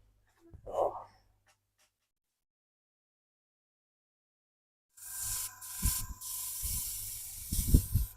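After a short soft noise and a long silence, an airbrush spray gun hisses in uneven bursts, fairly close and sustained, while painting a scale model of an F-111C aircraft.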